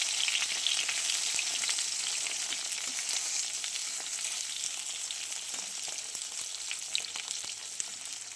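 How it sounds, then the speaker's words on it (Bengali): Eggplant frying in oil in a pan with a black cumin tempering, giving a steady, close, bright sizzle that holds evenly throughout with small crackles and pops scattered on top. "বেগুনটা একটু ভেজে দিই ভালো করে"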